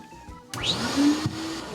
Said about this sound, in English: So the vacuum part clearly works, and it has a carbon filter on the inside so that it can filter out those fumes